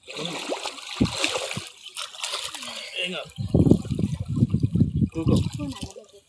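Water trickles and splashes in bursts as it is poured over a person at a baptism, mixed with close speech from the officiant.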